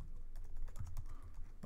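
Quick, light clicks of a computer keyboard as someone types Java code, a close, steady patter of keystrokes with no talking.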